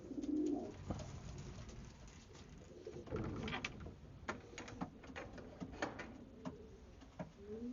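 Racing pigeons cooing in a Belgian breeding loft, several soft low coos near the start and scattered through, with clicks, wing flutters and knocks around the loft.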